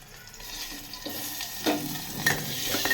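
Garlic, onion and bay leaf frying in a pan and being stirred, a soft steady sizzle with a few scraping stirs growing slightly louder toward the end.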